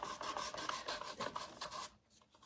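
Pastel blending stumps being sanded clean, rapid close rasping strokes in a steady rhythm that drop off briefly near the end, quiet and heard alone.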